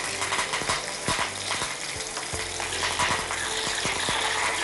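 Dried red chillies, curry leaves and shallots temper in hot oil with a steady, loud crackling sizzle, broken by sharp spoon-stirring clicks throughout. No one speaks.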